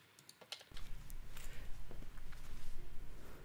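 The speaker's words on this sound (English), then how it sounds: "This is noise from shoes, from clothing, from saliva" Boosted handling noise in a vocal recording: rustling from shoes and clothing plus faint mouth and saliva clicks, a dense, crackly low-level scuffle that swells after a short quiet start and continues unevenly throughout.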